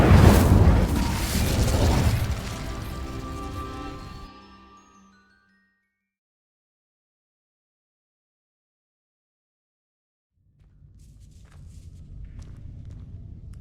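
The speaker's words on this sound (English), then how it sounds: "These dry vines are one spark away from becoming kindling. Incendio!" The Incendio fire spell in Hogwarts Legacy setting dry vines alight: a loud, sudden rushing burst of flame that fades away over a few seconds into silence, followed later by a low rumbling.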